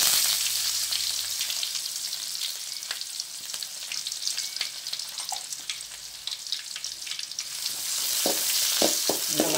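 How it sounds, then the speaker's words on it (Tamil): Steady sizzling and crackling of onions sautéing in hot oil for tomato rice, with occasional stirring scrapes and clicks nearby, no voices. "நல்லா வதக்கிக்கலாங்க"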